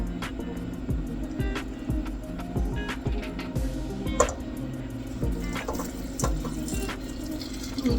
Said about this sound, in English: And then I'm going to fill that up.